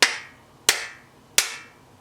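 Three sharp, loud hand claps spaced about two-thirds of a second apart, each a bright crack with a short decaying tail, performed as an exercise to activate the hand chakras, with no talking.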